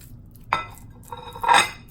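Cooked shrimp being placed into a bowl for aguachile, with two short clinks and clatters of dishware about a second apart, close and moderately loud over a quiet background.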